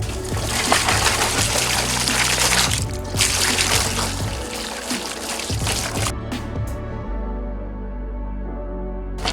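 Water from a hose washes out a new guppy pond lined with egg rock and a few small shells, a steady close trickle and splash that shifts and thins toward the end.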